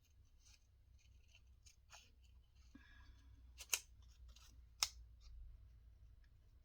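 Scissors snip a paper border off cut tags in a series of faint, quiet clicks and cuts, with two sharper snips standing out, close by and without talk.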